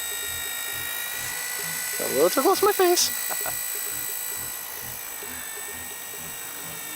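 An Ares FP75 RC helicopter hovers close by in a steady, high-pitched rotor and motor whine, its constant tonal drone running the whole time, with someone speaking briefly over it.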